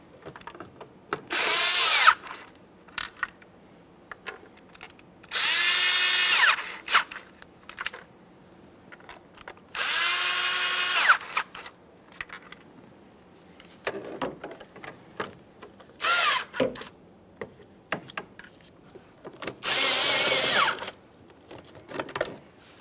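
A power tool snugs the throttle body bolts on a 2013–2020 Ford Fusion 2.0L four-cylinder, running in five separate bursts of a few seconds each, with quiet pauses and small clicks between them.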